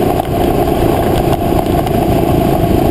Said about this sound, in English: Pardon me while I lug the engine a little bit. Let's crank it up.